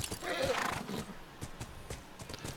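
A horse whinnies in the video game The Last of Us, a fairly faint neigh early on, followed by sparse hoof clip-clops and small game sounds.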